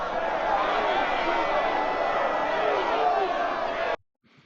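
A loud, dense crowd roars and shouts during a public execution in Game of Thrones, with the din staying steady for about four seconds before it cuts off abruptly into near silence.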